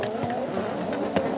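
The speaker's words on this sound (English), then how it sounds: "Big on the handbrake as they start." Nissan S14 drift car launching on the handbrake at a D1NZ drifting event, a loud continuous engine roar with revving and tire noise, close and steady with a brief burst near the end.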